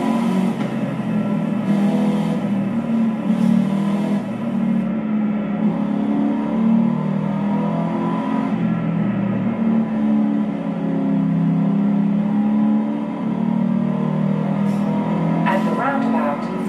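A car engine drones and revs up while driving across Mexico in Forza Horizon 5 on Xbox Series S, a steady, fairly loud engine note that rises and falls, with a voice speaking over it.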